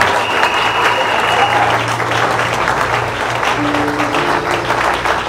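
A congregation at an evangelistic campaign meeting gives steady, dense applause and acclamations that hold at an even level for several seconds with a faint held tone underneath.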